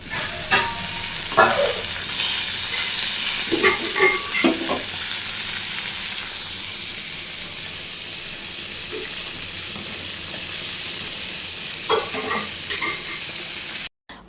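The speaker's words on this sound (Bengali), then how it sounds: "তেল অলরেডি গরম হয়ে গেছে মাছগুলো দিয়ে দিই ভালো করে ভেজে নিই" Pieces of fish fry in hot oil in a karai, sizzling loudly and steadily throughout, with bursts of clatter and stirring scrapes early on and again near the end.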